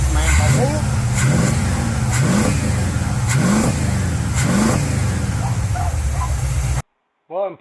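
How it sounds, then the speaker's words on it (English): A Pontiac 350 V8 engine with a Quadrajet carburetor revs repeatedly in rising bursts, loud and close, with a hissing intake roar throughout, then cuts off abruptly with a brief vocal sound. "I love the sound of quadrojet makes, man."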